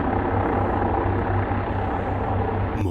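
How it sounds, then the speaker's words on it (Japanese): A helicopter overhead produces a steady low rotor rumble and broadband engine roar throughout, fairly loud and continuous, with a brief knock near the end. "なぜ上空にヘリがいる。"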